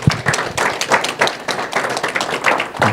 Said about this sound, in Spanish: Ponemos un fuerte aplauso a las ofrendas.